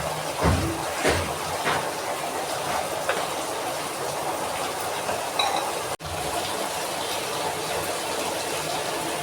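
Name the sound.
masala frying in oil in a pan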